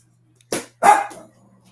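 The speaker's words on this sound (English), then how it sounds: "Dog is barking." Two sharp barks from a small dog, close and loud, one short yip followed by a longer bark, with a steady low hum underneath.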